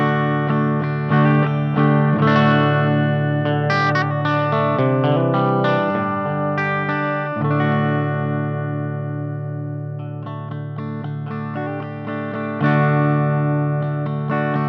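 Electric bass played through a Quilter 101 Mini Reverb amp with reverb and limiter off and bass, mid and treble at noon, sounding alone as a steady run of sustained, distorted notes and chords with no talk.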